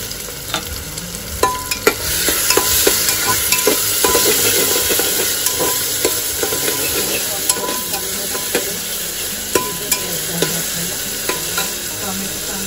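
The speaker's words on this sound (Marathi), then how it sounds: "त्याच्यानंतर आपण इथे आता आपण टोमॅटो टाकून घेणार आहोत।" Tomatoes sizzle loudly in a hot pan for a quick tiffin vegetable dish, with a steady frying hiss and repeated sharp scrapes and clinks of a spoon stirring against the pan.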